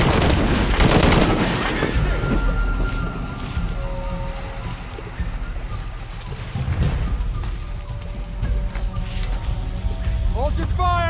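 Gunfire in the video game Shadow of the Tomb Raider, a loud burst of rapid shots early on followed by scattered further shots, mixed with in-game voices and background action.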